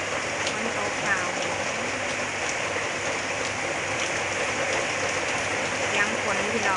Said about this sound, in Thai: ฝนตกขาว